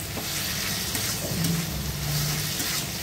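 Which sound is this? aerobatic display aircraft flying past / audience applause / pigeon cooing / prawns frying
prawns frying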